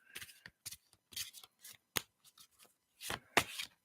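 Cards from an Egyptian-style deck shuffled and riffled in short, crisp bursts of papery flicking with brief pauses between, close and fairly quiet, with no talking.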